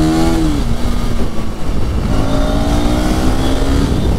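A motorcycle engine is held at high RPM, a loud, close, continuous whine whose pitch shifts slightly as the throttle moves, with no talking over it.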